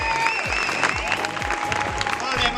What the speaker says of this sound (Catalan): anem a assajar els aplaudiments